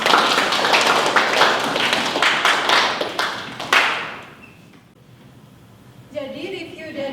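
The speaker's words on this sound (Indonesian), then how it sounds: "Beri tepuk tangan untuk Mbak Desi." A class applauds a student, a burst of many hands clapping that fades out after a few seconds, followed by a quiet pause and then people talking.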